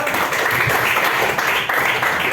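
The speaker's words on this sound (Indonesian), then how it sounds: "Baik, tepuk tangan untuk Esra." A classroom of students claps for a classmate during a physical education lesson in Aceh, giving a short, dense burst of applause that stays even throughout.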